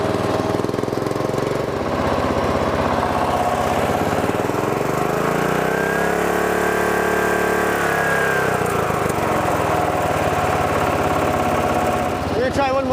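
An off-road riding lawn mower fitted with a swapped motor runs loud and continuous, its engine pitch sweeping up and then back down, with a rough, knocking edge throughout.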